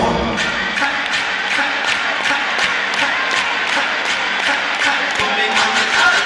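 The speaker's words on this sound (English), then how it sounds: "Clap for him." A large crowd at an arena concert applauds and cheers, a dense wash of clapping with rhythmic bursts and shouts over a continuous roar of the audience.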